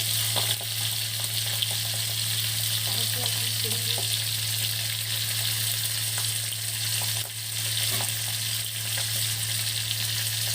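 Pabda fish frying in a pan with oil gives a steady, continuous sizzle and crackle, with faint occasional clinks as the fish is turned, and no talking.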